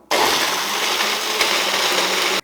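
Kitchen mixie grinding peanut chutney with a little water, a loud, steady whirring roar that starts abruptly, holds for about two seconds, then cuts off.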